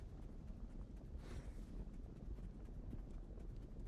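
Quiet hoofbeats of a horse in the video game Black Desert clip-clopping at a steady walking pace, faint and somewhat muffled, with a soft wind-like hiss underneath.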